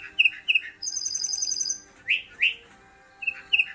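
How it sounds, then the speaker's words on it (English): Lark bunting, the Colorado state bird, sings a clear solo song of sharp whistled notes, a buzzy trill and repeated chirps, close and loud with no talk. "The bird known as the troubadour of the plains is the state bird of Colorado"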